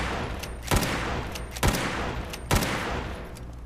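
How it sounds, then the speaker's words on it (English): Three loud, sharp gunshots from the Old Reliable in Fallout 4's Far Harbor, fired without a suppressor, spaced evenly about a second apart, each a booming crack over a steady low background hiss. "this is how it fires without the suppressor"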